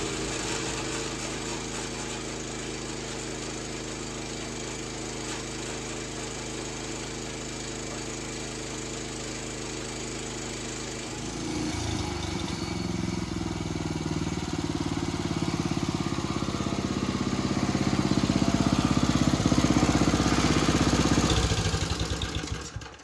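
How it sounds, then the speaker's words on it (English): The reels of a roughly 70-year-old reel mower whir steadily, then spin up about halfway through into a louder, rougher mechanical drone that keeps building close by. "I still wanted to go ahead and see if the reels would actually spin up"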